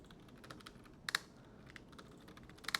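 Fast, light clicking of a computer keyboard as login details are entered on a Linux Mint machine, a quiet, close burst of irregular keystrokes with a few sharper taps.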